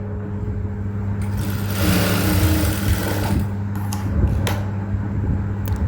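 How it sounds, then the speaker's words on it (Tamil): Close and loud, a sewing machine runs steadily as it stitches a seam on a blouse. Its motor drones with a rapid needle rattle, and a few sharp clicks come near the end. "அதுக்கப்புறமா அப்படியே உள் பக்கமாக திருப்பிட்டு போட்ட தையல்லே இன்னொரு தையல் போட்டுக்கிறேன்"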